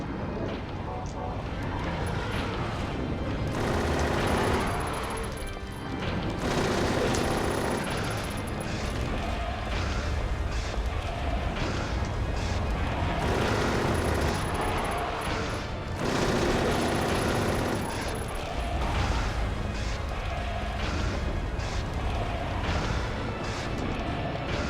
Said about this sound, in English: we have a fully automatic machine pistol